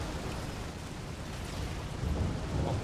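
A thunderstorm in the city-building game Cliff Empire, heard as a dense, steady roar of rain and rumbling thunder, with the low rumble swelling slightly toward the end.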